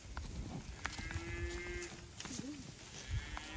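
A cow mooing on a drought-stricken hay field pasture, two or three clear, drawn-out low calls over steady outdoor background noise with other livestock sounds nearby.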